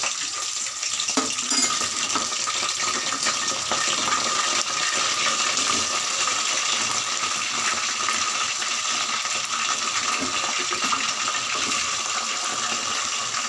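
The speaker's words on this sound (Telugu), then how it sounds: "నూనె కాగింది కదా, చికెన్ మొత్తం వేసేసుకున్నాము" Country chicken meat fries in hot oil, a steady, loud sizzling hiss that holds evenly throughout without interruption.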